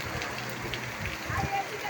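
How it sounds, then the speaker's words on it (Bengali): Rain falls steadily outdoors in Birampur, Dinajpur, Bangladesh, a constant moderate hiss and patter under a voice nearby. "বৃষ্টির মধ্যে আটকা পড়ে গেছি আমি"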